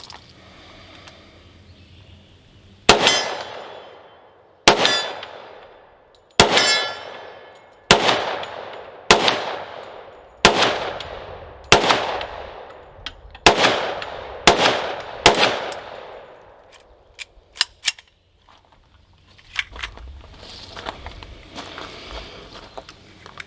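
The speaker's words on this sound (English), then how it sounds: "So let's load up and we'll do some fast shooting at the plates." A Hi-Point 10mm JXP pistol fires rapidly at steel plates outdoors, about a dozen sharp loud shots with ringing decays in an uneven string, then a few quicker cracks and clanks.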